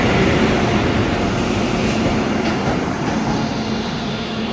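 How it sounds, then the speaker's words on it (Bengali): The Netaji Express, the Howrah–Kalka train, rolls into a station with a loud, continuous rumble and steady rail roar that eases slightly toward the end, with no voices. "এই ঢুকে গেল নেতাজি এক্সপ্রেস।"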